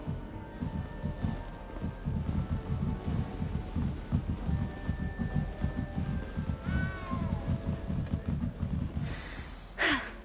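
In the Hogwarts Legacy video game, a cat lets out a couple of short meows near the end, over a steady rhythmic background of footsteps and ambient game sound.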